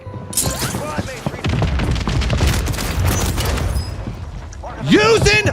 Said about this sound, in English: Using a fucking shotgun!